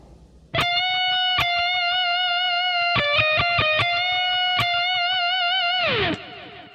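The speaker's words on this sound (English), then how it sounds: "So that beginning bit with the 2 bends should sound like this." Distorted electric guitar plays the opening of an outro solo: a sharp attack into sustained, bent notes with quick picked fills, ringing steadily for several seconds before the pitch slides down and fades.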